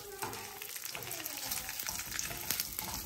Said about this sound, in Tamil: 5 மிளகாய் போட்டு வறுத்துக்கலாம்.